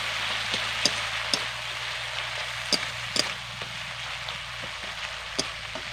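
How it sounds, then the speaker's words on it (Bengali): Spice paste for a Bengali bata fish curry sizzles steadily in hot oil, a constant close frying hiss broken by sharp pops and crackles at irregular intervals, with no voices. "এবার মশলাটাকে কষিয়ে নেব।"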